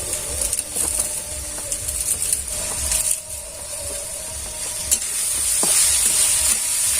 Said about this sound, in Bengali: এই সমস্তটা একটু ভাজা ভাজা করে নেব